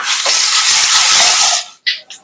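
Mustard seeds and cumin sizzle in a tablespoon of hot oil in a pan, a loud steady hiss lasting over a second and a half, then fading into two short sharp bursts of spattering.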